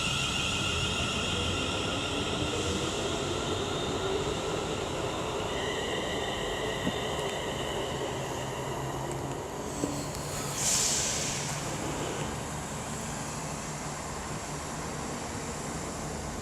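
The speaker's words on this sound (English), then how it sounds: "And the Turbo Star is going to be off as well." A Class 170 Turbostar diesel multiple unit pulls away from a station at Nuneaton, a steady mid-distance rumble and engine drone that holds evenly throughout, with a brief higher whine rising near the end.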